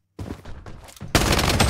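Rapid bursts of automatic gunfire from the video game Blood Strike, starting quieter and muffled, then erupting into a loud, dense, sustained volley of shots in the second half.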